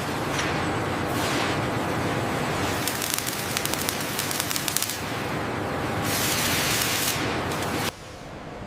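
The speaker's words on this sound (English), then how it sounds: "The robot then performs a controlled pressure test using inert" High-pressure hydraulic lines on a Tupolev Tu-134 rear engine mount are pressure-tested with inert gas in a factory, producing several strong bursts of hiss, one with a crackling edge, separated by short lulls.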